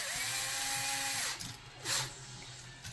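A power drill whines steadily, then its pitch sags and cuts out, followed by short bursts as bolts are driven during installation of a three-way light switch in a house.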